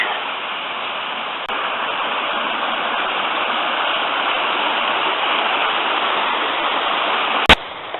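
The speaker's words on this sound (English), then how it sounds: "finally reached the river" A river in Wales rushes steadily as a continuous broadband wash of flowing water, near and loud, with one sharp click near the end and no voices.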